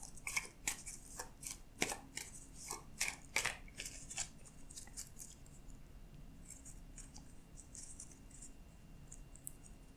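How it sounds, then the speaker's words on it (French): Tarot cards are shuffled by hand in quick, crisp riffling bursts near the start, then softer rustles and faint slides, all close and quiet, with no talking. "Moi, je bats les cartes."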